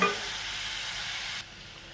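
Onion and slit green chilli sautéing in a pan with a little salt, a steady close frying sizzle that drops slightly in level near the end, no talking.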